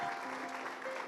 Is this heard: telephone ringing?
no